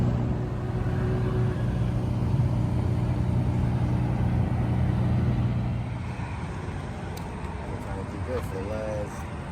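A nitrous drag race car idles with a deep steady rumble at a racetrack, close and loud, easing slightly near the end while people talk nearby.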